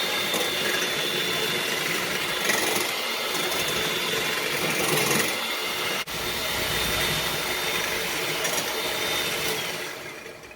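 An electric mixer whirs steadily through chocolate cake batter with egg yolks, a continuous buzzing drone that stays loud with only a brief dip midway, and no talking over it.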